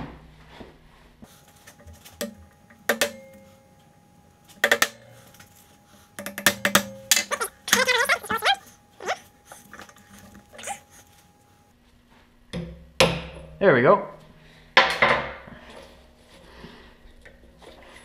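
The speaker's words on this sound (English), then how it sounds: "I'll get my hammer and we'll try and tap that out" A hammer taps a punch against the retaining clip of a Fox 2.0 air shock, producing scattered sharp metallic knocks and clatter in short bursts with quiet gaps, and a brief spoken remark.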